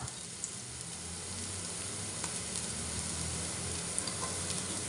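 Garlic frying in a pan for bacon fried rice, a dense steady sizzle and crackle with occasional sharper pops, close and continuous with no talking.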